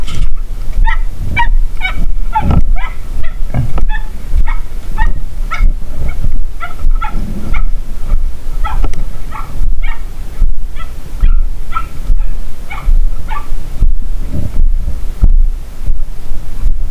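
A dog barks repeatedly in a steady series of loud, close yaps throughout, with constant background noise underneath and no talk.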